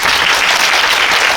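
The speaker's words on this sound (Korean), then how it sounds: "박수 한번 부탁드립니다." A film-festival audience at a screening Q&A breaks into loud, dense applause, a continuous close wash of many hands clapping throughout the short moment.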